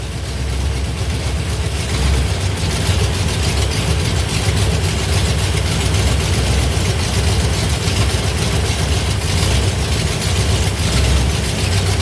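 A car engine idles steadily after a Fitech throttle body install, a loud, constant low rumble with no speech over it.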